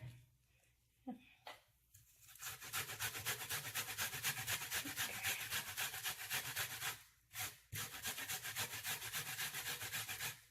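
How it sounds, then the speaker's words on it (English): Raw plantains rubbed by hand against a grater for soup, a steady rhythmic rasping that runs nearly continuously up close, broken by a few short pauses near the start and once more partway through. "we're going to continue grating our plantains"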